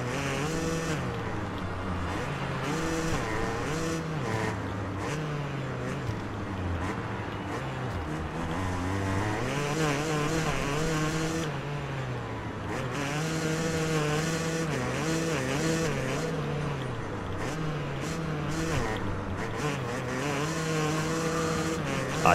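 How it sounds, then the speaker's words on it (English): Yamaha YZ250 two-stroke dirt bike engine in the MXGP Pro motocross video game at Frauenfeld, revving loud and continuous with the pitch rising and falling through gear changes and throttle blips for the whole stretch. "This is definitely my favourite two-stroke on the game. This YZ250 is lovely"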